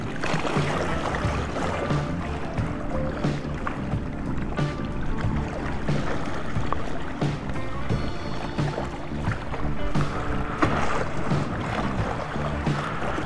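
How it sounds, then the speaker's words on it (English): Leisure boats pass on Saimaa lake in Finland, a steady outdoor wash of water and distant motor noise with wind, continuous and moderately loud with no talk. "lots of leisure boats"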